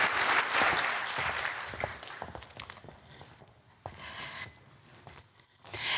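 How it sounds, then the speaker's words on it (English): A conference hall audience at a sustainability forum claps loudly at first, then the applause thins into scattered claps and shuffling footsteps, with a short renewed burst near the end. "Applause."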